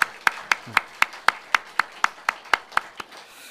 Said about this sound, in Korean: 우리 두 분께 박수 한번 부탁드리겠습니다